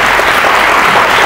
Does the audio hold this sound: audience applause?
yes